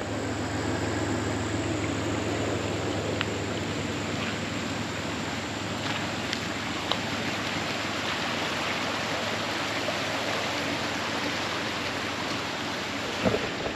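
A swollen river runs high after being low the week before, giving a continuous, even rush of flowing water that stays broad and steady from start to finish, with no voices.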